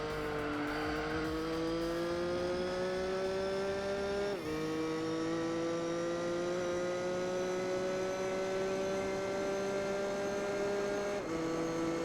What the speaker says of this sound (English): if I'm speaking and the car is driving, it's just like noise in the background